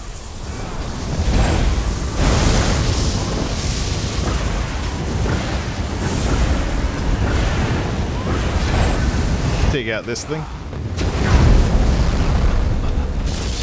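Enemies explode in the video game Elder Scrolls Online with loud booms and bursts over a constant rumble of combat noise, and a voice talks over the action.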